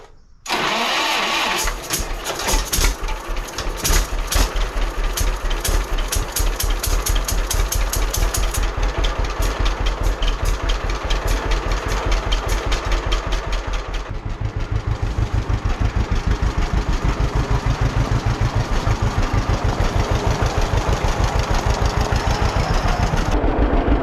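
A 1946 John Deere tractor engine starts and settles into a loud, close, rapid rhythmic putter, running steadily with a slight change in pace partway through.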